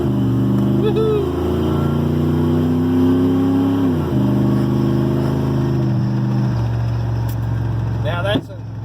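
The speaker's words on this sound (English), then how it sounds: "It's just a 350 Vortec with HEI distributor" A truck with a 350 Vortec V8 and HEI distributor drives steadily, its engine drone shifting pitch as it changes gear, loud and close from inside the cab, with a brief outside noise near the end.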